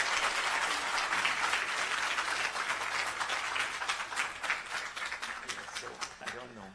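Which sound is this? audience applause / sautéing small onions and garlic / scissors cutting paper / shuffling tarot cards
audience applause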